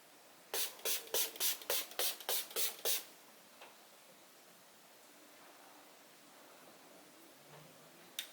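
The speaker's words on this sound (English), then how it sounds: "I really like how this setting spray smells" Makeup setting spray misted onto a face in about nine quick, evenly spaced close bursts over roughly two and a half seconds, followed by quiet room tone.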